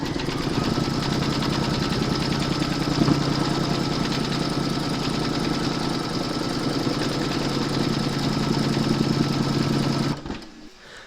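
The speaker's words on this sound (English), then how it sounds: "You're now going to stitch round number 3, and that's going to secure the hair in place." A computerised embroidery machine stitches a large mermaid and dolphin appliqué in metallic thread, securing the fabric hair; a steady, loud, rapid mechanical whir and needle chatter runs unbroken for about ten seconds, then stops abruptly.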